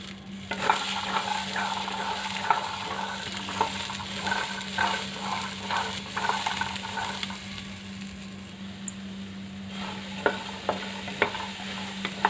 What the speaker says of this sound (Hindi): अभी हम मटर इसमें डालकर भून लेंगे,